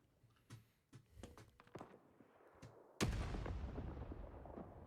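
Grenades blow up amid close fighting in the Vietnam War video game Rising Storm 2: Vietnam. Several sharp thuds come first, then one loud close blast at about three seconds that leaves a long rumbling, rolling tail.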